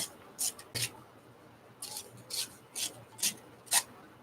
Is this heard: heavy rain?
no